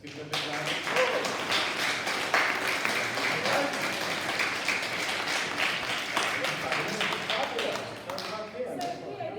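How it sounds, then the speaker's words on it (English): Applause from a school celebration assembly, a steady crowd of hands clapping for several seconds at moderate distance, with a voice speaking over it near the end as it fades. "Let's give him a big round of applause."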